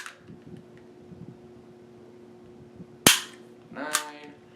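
A single sharp firearm shot cracks out close and loud during MantisX dry-fire style training, followed by a brief rattle or echo, over a quiet hum.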